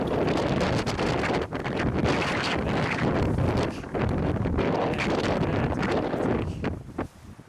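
Strong wind buffets the microphone outdoors at Red River Gorge, a loud, steady roar of gusts and rumble that runs unbroken nearly the whole time and eases slightly near the end.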